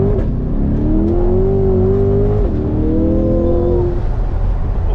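Chevrolet Corvette C8R race car engine pulling hard under acceleration, a loud continuous roar with rising and shifting tones, up close and alone with no talk.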